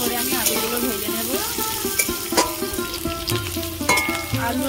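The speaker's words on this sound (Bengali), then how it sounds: "এই তেলের মধ্যে ভালো করে আমি আলুগুলো ভেজে নেব।" Potatoes fry in onion-flavoured oil in a kadai for a cauliflower and fish curry, a loud, steady sizzle with occasional utensil clinks, and tonal music playing underneath.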